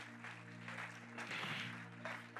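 A church congregation applauds softly and at a distance, the scattered clapping swelling in the middle over a steady low electrical hum.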